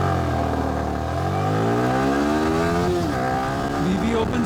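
A Yamaha R15 V3 150cc motorcycle accelerates hard from 0 to 100, its engine note climbing steadily through the revs with a brief gear-change dip, loud and close, from the rider's perspective.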